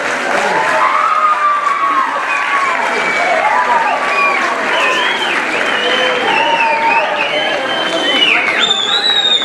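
A large school-ceremony audience in Mação honouring seventh-year top students gives loud, sustained applause mixed with cheering and crowd noise, continuous and dense for several seconds.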